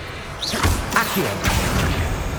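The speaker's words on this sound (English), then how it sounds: "Accio" Accio summoning spell in Hogwarts Legacy, a few quick magical whooshes and swishes with soft thuds and a rumbling low bed, close and moderately loud over about two seconds.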